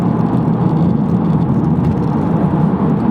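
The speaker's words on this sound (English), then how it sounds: "Little blip on the throttle." Engine of a 2015 MK3 Audi TTS blipping its throttle on a downshift from fifth to fourth gear, a steady loud rumble and whir from inside the moving car with no talk.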